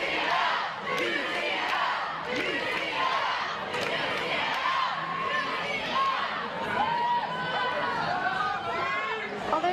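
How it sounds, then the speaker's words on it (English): Dense crowd noise at a university varsity rugby-style match between UCL and Kings in London, with shouting, chatter and bursts of cheering rising and falling continuously across the whole stretch. "Lots of noise in the crowd."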